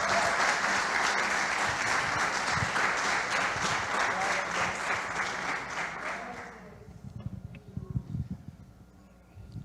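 A church congregation applauds its pastors, loud massed clapping for about six seconds that then fades out, leaving quieter room murmur and scattered low sounds.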